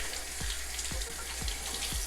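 Hot water runs steadily from a tap in a hotel room, a continuous wash of spray with faint periodic dripping ticks, fairly close and without any talking.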